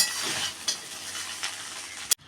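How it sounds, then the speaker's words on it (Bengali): Fried rice made with miniket rice and sugar, frying in a pan and being stirred, giving a continuous close hiss with a few soft scrapes and a sharp clack near the end. "এখন একটু ভালো করে এটা নেড়ে নেব"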